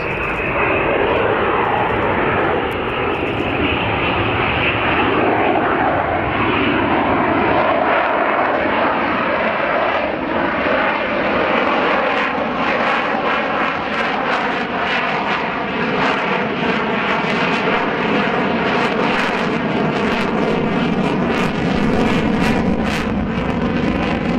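Jet aircraft making a nose-high, high angle of attack pass at the RAF Cosford Airshow, a loud continuous engine roar that holds steady and wavers in pitch as it passes, with no talking.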